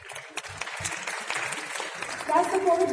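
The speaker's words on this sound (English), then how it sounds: "If I can just have a round of applause to them" An audience applauds COVID warrior doctors at a World Homeopathic Day session, with scattered claps building into fuller clapping toward the end and voices speaking over it.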